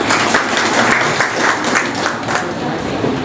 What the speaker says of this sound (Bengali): আমরা শুধু আমাদের স্যারদেরকে সম্মান জানিয়ে একটা হাততালি দিই।